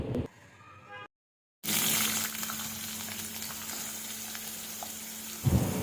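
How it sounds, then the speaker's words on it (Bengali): Onions sizzling in hot oil in a frying pan, a dense steady crackle and hiss that starts abruptly after a brief pause and continues close and even until a small clatter near the end. "আমি একটি ফ্রাই প্যানে তেল গরম করে এখানে পেঁয়াজ দিয়েছি কিছু। পেঁয়াজটা হালকা বাদামি কালার করে ভাজবো"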